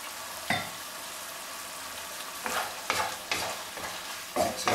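Mince sizzles in a pan with an oxo cube crushed into it, a steady close frying hiss broken by several scraping stirs of the spoon.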